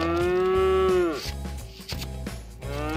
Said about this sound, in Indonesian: Yang ini teman-teman ada sapi bule ya, warna merah hitam.